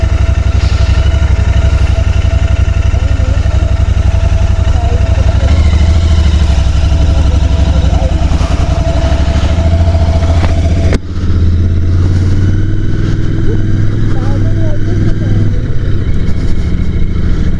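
A Royal Enfield Interceptor 650 motorcycle engine drones steadily while riding slowly with a passenger, a loud, close, continuous low rumble with wind noise and a brief dip partway through.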